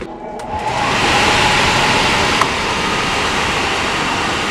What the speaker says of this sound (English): Ginger's coat is so thick and riddled with waves that she must undergo a bit of the cage dryer just to help dry the toughest spots on her head.